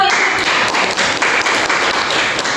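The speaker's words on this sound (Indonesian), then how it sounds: "Iya, tepuk tangan Bu." Teachers applauding at a school training session, dense continuous clapping filling the room, loud and close throughout.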